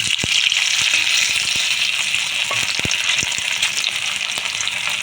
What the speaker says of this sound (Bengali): কড়াতে তেল দিয়েছি, তেল গরম হয়ে গিয়েছে, পনিরটা দিয়ে দেবো